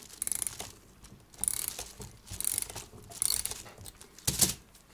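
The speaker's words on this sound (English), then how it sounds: "Now wind the going side, and we'll put a clamp on it." An antique Welch kitchen clock's going side is wound with a key, making close, crisp ratcheting clicks in five or six bursts separated by short pauses.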